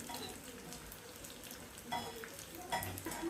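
Onions and broken dried red chillies frying in oil for a tempering, a soft continuous sizzle with a couple of brief louder crackles and stirring scrapes, quiet and close with no talking.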